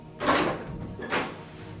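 A door swings open in a quiet study: two short, muffled swishes of movement in close succession, soft and near, with no talking.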